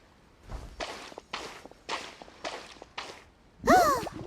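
Footsteps of a character in the video game Genshin Impact: six evenly paced, moderately loud steps, followed by a sudden swishing burst at the end.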